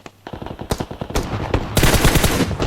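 Video game gunfire sounds as a rapid burst of loud, close shots in quick succession. It speeds into a dense, continuous stream of automatic fire near the end, with no talking over it.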